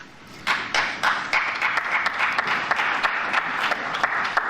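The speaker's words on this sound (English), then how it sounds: "Is it two people clapping, or is it three people clapping?" A small group of a few people claps in a brief recorded snippet, sharp irregular slaps repeating several times a second, close and fairly loud.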